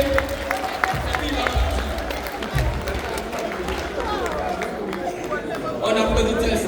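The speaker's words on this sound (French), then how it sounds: "On applaudit très fort." A crowd applauds and cheers in a busy hall while a voice talks over the clapping and chatter, which swells slightly near the end.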